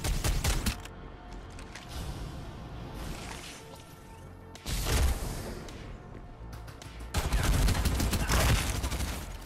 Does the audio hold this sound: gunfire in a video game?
yes